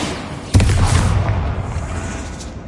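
A Bombarda blasting spell detonates in Hogwarts Legacy, one sudden loud close boom that rumbles and slowly fades over the next two seconds.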